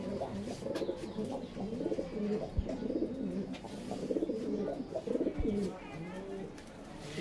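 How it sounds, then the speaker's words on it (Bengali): Several Ablak pigeons coo in a loft with repeated soft, throaty cooing phrases close by, overlapping at a steady moderate level. "বন্ধুরা দেখুন এক পেয়ার আবলুক পায়রা আপনাদের দেখাচ্ছি দেখুন।"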